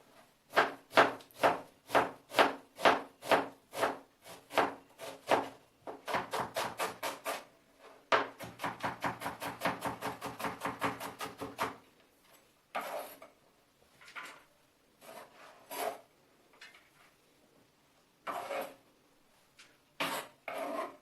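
A knife chops onion finely on a board with rhythmic, evenly spaced strokes, then rapid fast bursts, followed by slower scattered cuts; crisp, close and fairly quiet.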